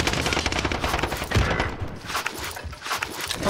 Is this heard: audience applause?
no